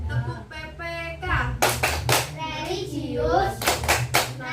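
A classroom of children claps a rhythmic chant in bursts of sharp, loud claps, with voices chanting and a teacher speaking between the clapping patterns.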